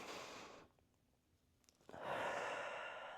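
A slow, soft breath is drawn in during a breathing exercise. After a faint airy stretch and a near-silent pause it swells into a steady, close inhale, quiet and unaccompanied by speech.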